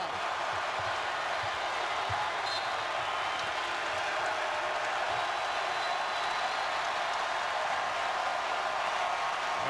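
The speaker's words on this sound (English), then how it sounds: "This crowd's going crazy now." A packed basketball arena crowd at a Kansas versus Kansas State game roaring after a steal, a dense, continuous wall of cheering and applause that holds loud throughout.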